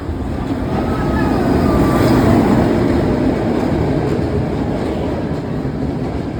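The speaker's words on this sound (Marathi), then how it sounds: "हे ट्रेन बघा पुराणा जमान्याची ट्रेन आहे." An old train from Una station to Junagadh, Gujarat, rumbles steadily along the tracks, a continuous heavy roll with faint metallic squeals, loud and close throughout.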